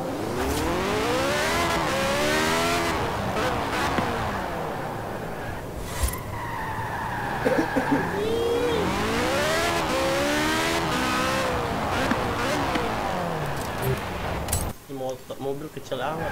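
Cars in the Forza Horizon 4 racing game rev and skid continuously, with repeated rising engine sweeps and tire squeals, loud and close under a voice talking.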